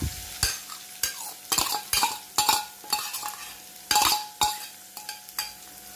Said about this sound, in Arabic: السمنه سخنت اهيت. هنزل بقى بالبصلايه